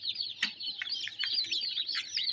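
Newly hatched chicks give rapid, high, thin chirps that overlap in a busy, close-up twittering chorus.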